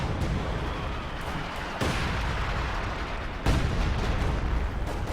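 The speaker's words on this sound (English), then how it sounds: "No, priest is bombarding this area." Distant M7 Priest artillery bombardment in the Company of Heroes 2 video game, three heavy booming impacts spaced about two seconds apart over a dense, rumbling battlefield din, with no speech.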